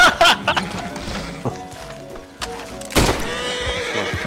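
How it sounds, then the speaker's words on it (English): A horse in the video game Red Dead Online whinnies loudly several times in short bursts, with clopping hooves and a few thumps mixed in. "Oh, now my horse fucking shows up."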